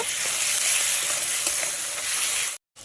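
Ginger garlic paste frying in hot oil while being stirred, a loud, close, continuous sizzle with faint stirring scrapes, cutting off abruptly near the end, for a jackfruit and chicken curry.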